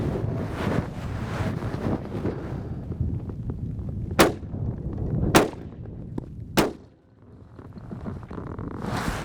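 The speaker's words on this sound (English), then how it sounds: "it's a little windy" Gusty wind buffets the microphone at a desert shooting range in Lower Baja, a heavy rumbling roar that dips briefly, with three sharp cracks cutting through it.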